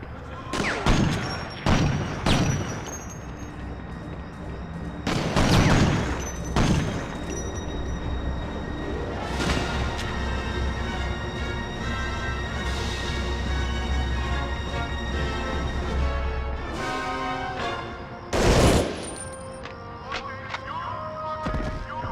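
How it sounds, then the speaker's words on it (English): Gunfire through walls in Medal of Honor Underground: loud, close shots crack out in separate bursts over a constant rumbling background, with several sharp blasts spread across the stretch. "they're shooting me through the walls"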